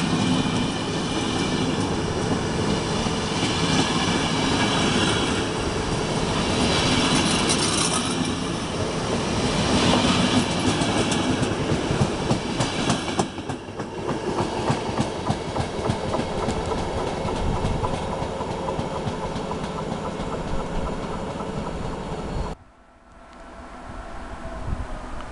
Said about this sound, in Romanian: A venit și Regio la linia 5.